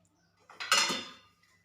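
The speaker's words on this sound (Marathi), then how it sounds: "आता पंधरा मिनिट आपल्याला हे भांडं असंच ठेवून द्यायचं तर मी याच्यावर ताळ झाकणार आहे" A metal plate set down as a lid over a cooking pot of rasam rice: a short clattering clank of metal against metal, close and fairly loud, ringing briefly before fading.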